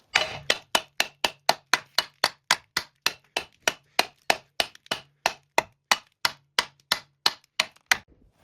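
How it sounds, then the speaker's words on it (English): Sharp, evenly spaced metallic hammer blows knock a cut steel brace off a Jeep XJ one-ton front end, about three per second, loud and close with brief ringing after each strike. "now it's just time to hammer it off"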